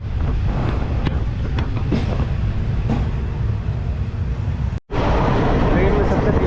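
Thai passenger train on the Phuket to Bangkok run pulling out of a station, a steady close rumble and rolling clatter throughout with a brief dropout near the end, and someone talking over it.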